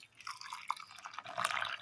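Water trickles and drips softly into a mixer jar holding cumin, garlic, shallots, grated coconut, turmeric, coriander and chilli powder. The sound is brief and quiet, made of small splashy drops.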